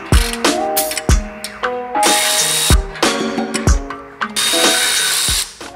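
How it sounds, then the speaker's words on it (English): Power ratchet with a T-hex socket backing out brake caliper bolts on a Maserati big-brake setup, loud whirring bursts in repeated short runs separated by sharp clicks and metallic knocks. "we're going to use our T-hex socket. Take off the two bolts,"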